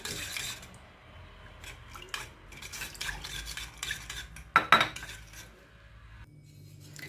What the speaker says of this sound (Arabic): غادي نبقاو مستمرين في التحريك